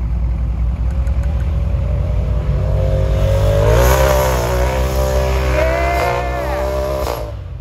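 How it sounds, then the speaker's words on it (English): A Turbo 1000 off-road vehicle climbs through the woods, its engine droning loud and close before revving up in rising, wavering pulls that fade out at the end, with a voice faintly present under the noise. "Is that a Turbo 1000 I spy?"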